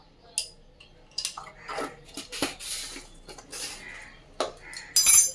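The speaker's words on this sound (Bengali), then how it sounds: "এটা আবার ভালো করে মিশিয়ে নেব।" Cake batter with baking powder and baking soda is stirred in a bowl, giving scattered clinks and scrapes of a utensil against the side, sparse at first and then quicker and sharper near the end.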